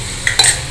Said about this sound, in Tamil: தக்காளி வெங்காயம் நல்லா வதங்கட்டும்.